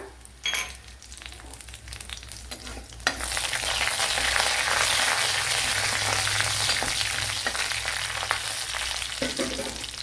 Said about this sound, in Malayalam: ഇവിടെ 1 ടേബിൾ സ്പൂൺ ഓയിൽ ചേർത്ത് കൊടുത്തിട്ടുണ്ട്. അതിലേക്ക് കടുക് ഇട്ട് കൊടുത്തിട്ടുണ്ട്.